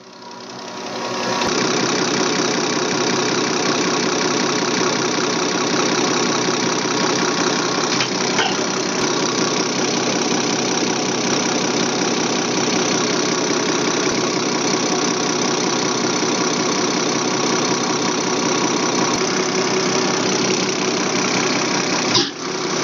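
Case 170B excavator with a Deutz 913 diesel engine settling at low idle, a steady, close, rhythmic knocking rumble that starts after a second and continues unchanged for over twenty seconds.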